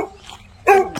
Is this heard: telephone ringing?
no